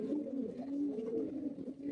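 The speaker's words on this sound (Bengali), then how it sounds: "এই হচ্ছে কবুতর, পাঙ্কি কবুতর।" Pankhi pigeons cooing in a steady, close, rolling coo that carries through the whole stretch with no talk.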